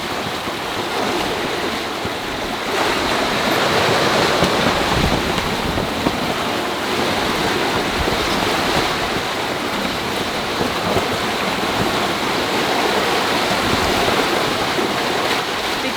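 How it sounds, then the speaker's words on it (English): Strong wind roars over a sailboat on the open Atlantic as confused seas crash and slosh around the hull from all sides, a steady dense wash of water and wind noise with no voices. "the waves come from literally everywhere"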